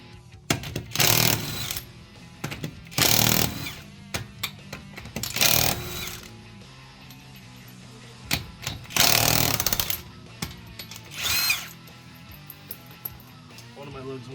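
A power tool spins lug nuts off a Toyota Tundra wheel in several short, loud rattling bursts of a few seconds each, separated by quieter gaps with clinks and handling noise, close to the microphone.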